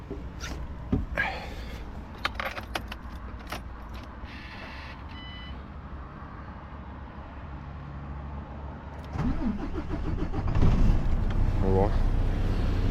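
A truck engine starts at a parking lot after a stretch of light clattering and handling noises: the motor catches partway through and settles into a steady, louder rumble.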